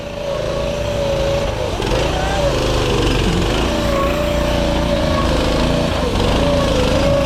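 A Predator 212 engine on a competition rock crawler runs loud and close, a steady buzzing drone with rising and falling revs throughout.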